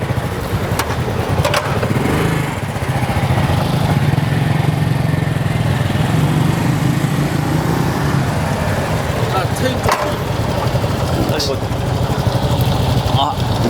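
A heavily loaded motorcycle engine idles and revs nearby at a motorcycle shop in Jeju, a steady low rumble running throughout, with a few clicks and knocks over it.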